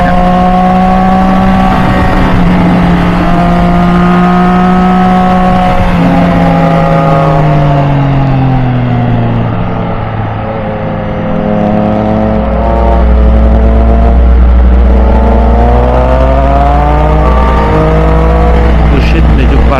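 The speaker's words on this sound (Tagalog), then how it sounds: "Tinig na tinig mo yung makina." Motorcycle engine droning loudly on a midnight mountain road ride, a sustained close-up hum whose pitch rises and falls with throttle changes through curves, with wind rush and a rider talking over it.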